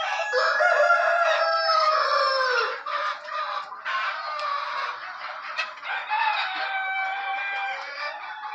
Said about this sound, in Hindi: देखिए बिल्कुल बोलता हुआ ज़बरदस्त मुर्गा